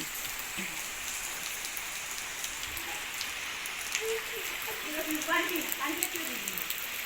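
Steady rain from Cyclone Jawad pours outdoors in an even, constant hiss with scattered drip patters and faint voices in the background.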